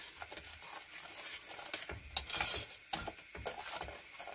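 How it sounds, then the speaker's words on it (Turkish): Chocolate sauce and milk are stirred in a pot while cooking for a tart cake, a close, steady scraping and sloshing of a spoon against the pot with rhythmic strokes and no talk. "Çikolata sosumuzu da üzerine ekledikten sonra kontrollü bir şekilde karıştırarak pişirelim."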